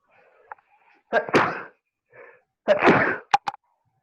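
Two sharp sneezes about a second and a half apart, close and loud, separated by brief quiet with faint murmurs.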